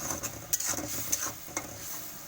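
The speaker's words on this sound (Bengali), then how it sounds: "গুঁড়া মরিচ একটু হালকা দিলাম দিয়ে নাড়াচাড়া করতেছি" Chili powder and spices stirred in a hot frying pan: a continuous sizzle broken by several bright scraping strokes of a utensil against the pan, close and fairly loud, with no voices.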